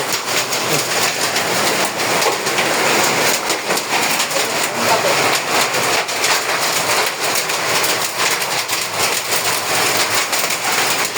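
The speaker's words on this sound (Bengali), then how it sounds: "আপনারা টিনের শব্দে বুঝতে পারতেছেন যে কি পরিমাণ পাথরের শব্দ।" Dense, loud clattering of large hailstones drumming on a tin roof in Ashulia, Bangladesh, a continuous roar with no let-up and no voices.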